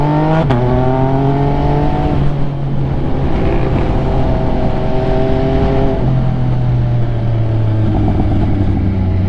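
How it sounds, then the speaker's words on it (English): An MV Agusta F3 800 sport motorcycle riding through downtown streets, engine revving up and shifting through gears with rising and falling pitch, loud and close from the rider's position, no speech. "This is an MV AGUSTA F3 800, but I got Ducati course stickers all over the side of it and stuff."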